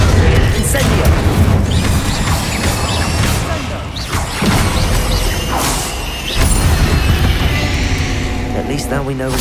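Fire spell blasts from the Hogwarts Legacy game burst out loudly in quick succession, heavy booms and crashes layered over dense game music and a voice.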